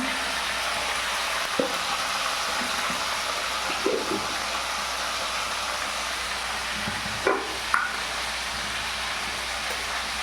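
Fish heads fry in a pan with ginger paste, turmeric and salt while being stirred, giving a steady loud sizzle with a few scraping stir sounds, no voices.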